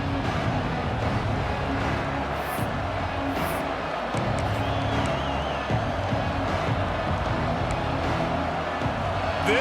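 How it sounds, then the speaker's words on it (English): A college football stadium crowd at Notre Dame versus Purdue roars steadily, cheering and whooping in a dense wash of noise under faint game sounds. "This crowd ready to make its presence known."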